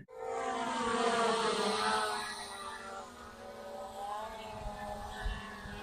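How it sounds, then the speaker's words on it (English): An ATTOP W80 GPS drone's propellers whine loudly and steadily as it flies close by, the pitch dropping and the sound easing as it comes down to land, with small bumps near the end. "That's ATTOP W80 GPS drone."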